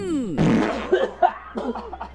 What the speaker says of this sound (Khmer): ថ្ងៃក្រោយបើចង់ផោម